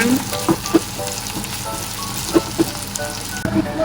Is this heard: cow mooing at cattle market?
no